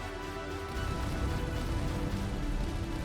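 Meteor Rain attack effect in the video game King Legacy, a dense, steady roar like heavy rain pelting a surface, with a deeper rumble swelling in partway through and holding to the end.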